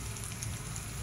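Mustard-style tempering of chilli, asafoetida and sesame seeds sizzling in hot oil for moong dal dhokla, a soft steady crackling hiss with a small sharp pop at the end.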